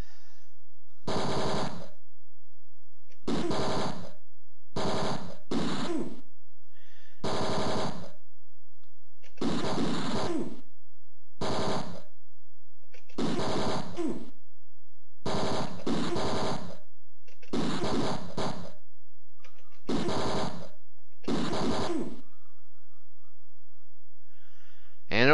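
Gunfire in the video game Mean Streets comes in short, repeated bursts of crude synthesized shots, evenly spaced and separated by silence, loud and near.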